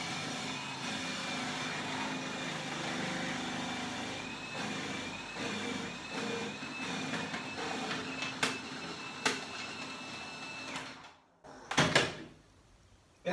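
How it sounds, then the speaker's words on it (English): Food processor with a julienne blade cutting carrots, a sustained motor whir with a faint whine for about ten seconds, scattered clunks of carrots feeding through, then stopping with a few louder knocks. "That's how fast it is to make these juliennes with the help of a food processor and julienne blade."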